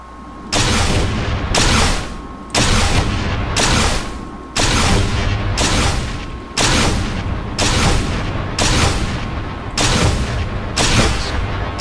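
Weapons fire and bombs in the game Space Engineers with a Star Wars TIE Bomber mod, a loud regular series of about ten heavy booming blasts, each with a long rumbling tail.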